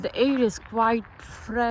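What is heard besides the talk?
No everyday noise stands out behind the speech.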